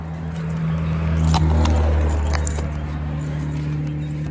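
Keys jingle and rattle up close for a few seconds at a beach road while out lure fishing, a bright metallic clatter over a low steady background hum.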